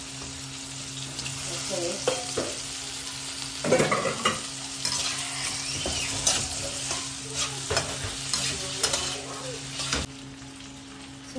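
Pork fries in a pan, sizzling steadily while a utensil scrapes and stirs it in irregular bursts; a brief spoken word comes near the start.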